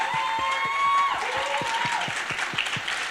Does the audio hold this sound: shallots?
no